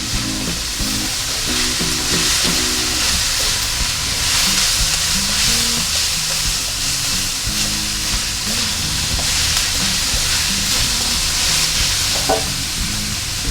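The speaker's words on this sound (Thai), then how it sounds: "กระชายซอยกับ พริกไทยอ่อนนะครับ ใส่ลงไปเลย ผัดคลุกเคล้าทั้งหมดให้เข้ากันเลยนะครับ" Squid stir-fried with sliced fingerroot and green peppercorns in a hot pan, a steady loud sizzle with constant frying hiss and occasional stirring clatter, close up and uninterrupted, no voices.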